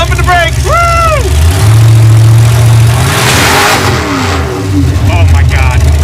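Roadkill's Stubby Bob drag car revving hard during a wheelstand, a loud engine rising and falling in pitch as it accelerates, with excited voices and shouting over the roar.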